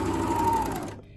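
A serger runs in one quick burst while sewing the short ends of a double-fold binding on a tank top, its fast, close mechanical whir stopping abruptly near the end with no talk.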